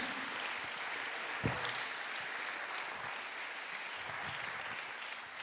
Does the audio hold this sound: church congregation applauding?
yes